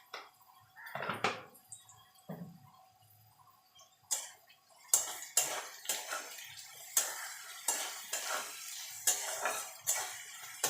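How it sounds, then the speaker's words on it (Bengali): Carrots and beans fry in a pan of oil with a little salt, a quiet sizzle broken by a series of sharp scraping and stirring clatters of a utensil against the metal pan. "গাজর বিনসটা ভেজে নেব।"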